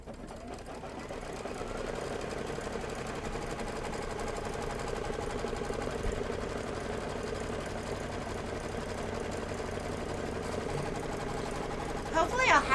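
An embroidery sewing machine stitches out a felt pennant placement line, its steady, fast mechanical whirr running close and continuous for the whole stretch, with a few clicks at the end.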